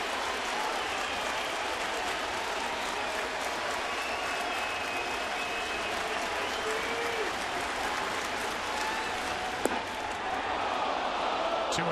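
Steady roar of a packed Yankee Stadium baseball crowd cheering and clapping through the first inning of a Red Sox–Yankees game, a continuous dense wash of applause with no clear breaks.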